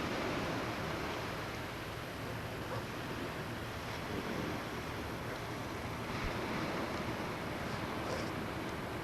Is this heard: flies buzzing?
no